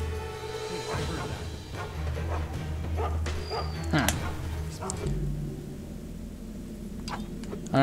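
A dog in the stealth video game Mark of the Ninja barks and yips in short bursts, with whimpers, over the game's ambient soundscape while someone talks.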